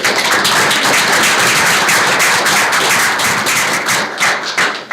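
Dense, loud applause at a school board of education meeting for a student, many hands clapping steadily at close range and thinning out toward the end.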